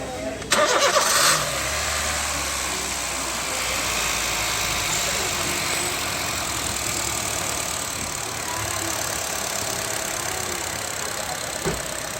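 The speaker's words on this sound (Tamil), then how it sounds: "ஆஃப் பண்ணி ஸ்டார்ட் பண்ணுங்க" A used 2013 Honda City cranks and catches with a brief sharp burst, then settles into a steady, even idle hum that carries on for several seconds.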